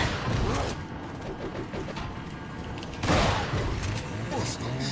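Gunfire with booming shots in the Resident Evil 4 game, a couple of heavy blasts rising over a dense, busy layer of game sound and voices that runs throughout.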